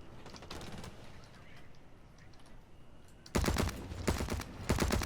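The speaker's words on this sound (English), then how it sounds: "this thing's got too much recoil to try to shoot through that" Heavy gun firing in the Blacklight Retribution shooter game, a burst of loud rapid shots after a quieter stretch, repeating in short volleys with heavy recoil.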